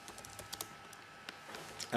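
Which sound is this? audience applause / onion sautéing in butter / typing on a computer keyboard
typing on a computer keyboard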